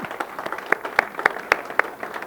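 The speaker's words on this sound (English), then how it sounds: "So a round of applause" An audience at a RED Friday meeting applauds, with scattered, fairly sparse claps popping out sharply over a soft background patter for a couple of seconds.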